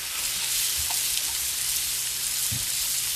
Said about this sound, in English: I'm going to put some onion in there, diced onion.